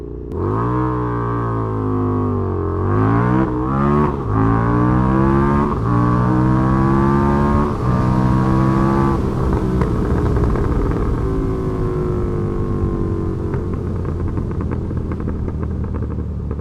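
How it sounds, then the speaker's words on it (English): Motorcycle with a punchy street-style engine launching hard down a rented drag strip, loud and close, revs climbing through several quick gear changes over about sixteen seconds with no talk. "That was my first time ever launching this bike on the strip"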